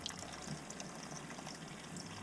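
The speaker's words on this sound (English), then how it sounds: "Here comes the flush." A toilet flush drains through a cast iron sewer pipe, heard as a steady, soft rush and trickle of running water that holds for the whole stretch with no talk.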